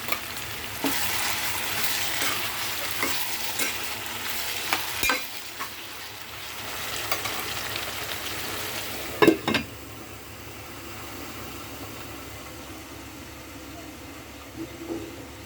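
Tomatoes fry in a pan of potato curry, giving a steady broadband sizzle throughout with occasional scraping stirs and a sharper clatter midway, close and moderately loud, with no talking.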